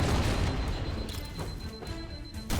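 A grenade blast in a video game, a dense rumbling boom with crashing debris that carries through the whole moment and ends in a sharp second burst, with no voices.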